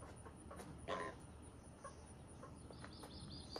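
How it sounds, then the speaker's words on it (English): Chickens cluck softly and intermittently in a farmyard where a mother hen and her baby chicks are feeding, faint and a little distant over steady outdoor background noise. "Let's see the baby chicks over there with its mama eating"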